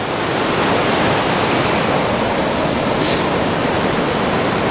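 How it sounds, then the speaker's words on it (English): A rapid waterfall on a roadside stop in Scotland roars right beside the listener, a loud, dense, unbroken wash of rushing water that fills the whole stretch with steady hiss and rumble. "hopefully you can hear me over the din of the falls"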